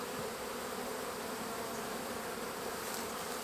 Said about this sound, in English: And I got tons of bees all inside here.